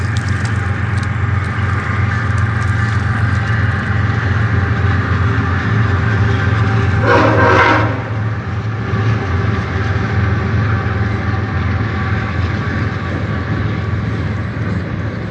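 A steady, loud rumbling drone continues throughout, like a long train rolling past at a distance, with a brief louder burst midway.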